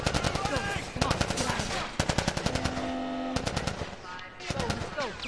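Rapid bursts of automatic gunfire fill a combat scene in The Last of Us, with repeated loud rattling volleys and short pauses between them, while a voice is heard briefly under the shooting.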